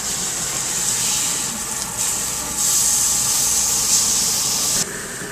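Steak sizzles steadily in a hot pan just after being flipped, a loud, continuous broad hiss that swells brighter midway and drops back near the end, with no talking.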